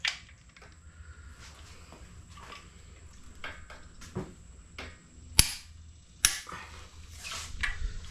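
A torque wrench on SRT4 cylinder head bolts, heard as faint ratcheting under quiet shop ambience, then two sharp loud clicks as the wrench breaks over at 85 pounds, close up.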